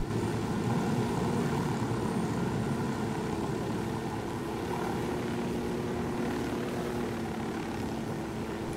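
A helicopter flies in the video game Ghost Recon Wildlands, a continuous droning rotor and engine sound held at a moderate, even level without speech.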